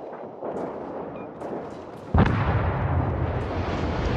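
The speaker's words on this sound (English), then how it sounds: "All stations, concentrate fire on the target." Naval gunfire in the sea battle game World of Warships during a tier ten clan brawl: a rumbling battle backdrop with distant shots, then one heavy close cannon blast whose deep boom rolls on and lingers loudly.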